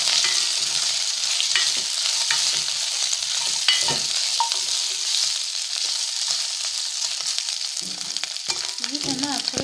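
Food fries in a small amount of oil, a soft continuous sizzle with occasional stirring scrapes, and a brief faint voice near the end.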